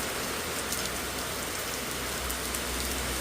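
Rain falls steadily, a dense even hiss of drops striking surfaces, constant and moderately soft throughout with no voices.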